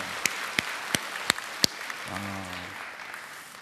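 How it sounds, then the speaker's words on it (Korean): A church congregation claps in thanks, though only a handful of sharp, separate claps ring out in a loose rhythm before fading, followed by a brief low hum. "우리 하나님께 우리 감사의 박수 한번 올려드립시다"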